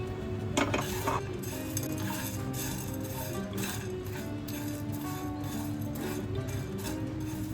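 Whole spices (cinnamon, dried red chillies, nutmeg, mace, bay leaf, peppercorns, green cardamom, cloves and cumin) dry roasting in a pan for chicken biryani, with light clinks and scraping stirs against the metal and a low background hum, no voices.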